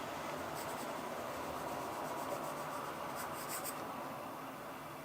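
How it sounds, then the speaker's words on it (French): Pencil drawing a stylized curve on paper, a steady soft scratching and rubbing that runs continuously at close range, with a few brighter strokes near the end and no voices. "Alors ici, maintenant, on va redessiner cette courbe."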